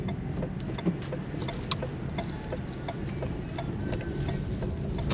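A 2024 Maruti Suzuki Swift S-CNG rolls over a rough, broken road patch, giving a steady low cabin rumble with scattered small knocks and rattles from the suspension, heard from inside the car and without speech.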